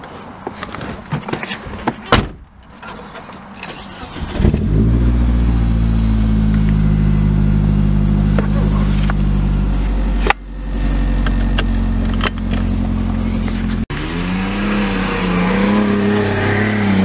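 A Nissan 240SX with a large, loud exhaust can fires up after some rustling and handling noise, then idles and revs with a deep, booming drone that swells up close.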